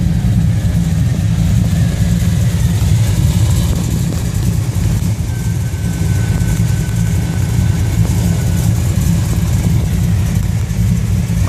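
A 1987 Chevy's engine runs with a deep, steady rumble, loud and close, holding an even drone without talk.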